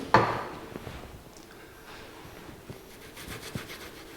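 A cloth or brush rubs over the painted dash of a 1982 Jeep CJ7, the first scrub loud and close, then quieter scraping strokes continue, ending in a small bump.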